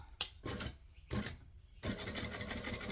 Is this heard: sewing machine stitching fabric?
yes